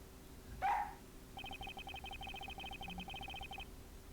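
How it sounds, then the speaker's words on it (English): A police dog in the game Ace Attorney Investigations: Miles Edgeworth gives one short bark, followed by a quiet, rapid series of pulsing electronic blips. "Prosecutor Von Karma, I brought the police dog, as you requested."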